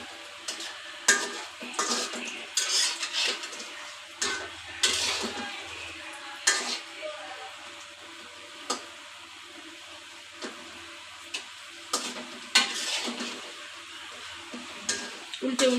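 Singara frying in a pan while being turned over and over: continuous sizzle under frequent clattering scrapes and knocks of a utensil against the pan, uneven in rhythm and close, with brief voices now and then.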